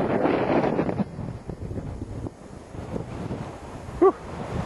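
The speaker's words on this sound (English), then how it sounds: "Windy." Wind gusts across the open top of Brins Mesa near Sedona, buffeting the microphone in rough, uneven bursts that are strongest at first and then settle into a lower rumble.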